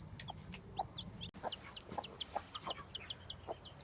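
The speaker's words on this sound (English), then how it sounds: "here's Maisie with her little chick" A mother hen clucks softly and repeatedly beside her newly hatched chick, whose high thin peeps chirp in quick succession over a faint low background hum.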